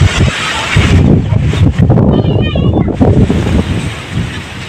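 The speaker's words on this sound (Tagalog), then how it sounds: "Grabe ka hangin." Strong wind buffets the microphone in loud, continuous gusts, with surf-like roaring underneath and a few faint voices mixed in.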